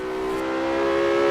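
Porsche 918 in Forza Horizon 3 accelerating, a steady rising engine whine with strong harmonic tone, growing slightly louder and alone.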